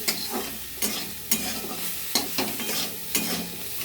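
Vegetables spiced with salt, turmeric, cumin and coriander powder fry in a pan as a spoon stirs them, with a steady sizzle and a run of sharp scraping strokes, close and without talk.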